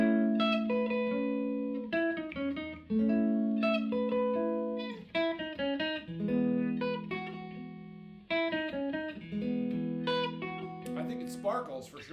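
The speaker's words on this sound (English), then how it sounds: "is the amp's high gain sound." Electric guitar on the neck humbucker through a Menditto Amplification Uncle Chico amp on its high gain setting, an RM Olson Ollandoc in the chain: saturated picked chord and riff phrases, close, with pauses and a brief bright flurry at the end.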